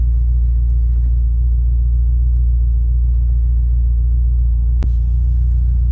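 A BMW M5 Competition LCI's engine idles with a steady, low rumble continuously, with a brief click partway through.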